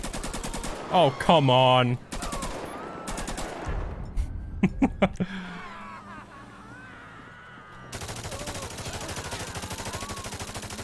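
Rapid bursts of heavy-recoil gunfire from a weapon in GTA 5, loud clustered shots early and a few sharp single reports later, with a brief spoken exclamation and game background noise.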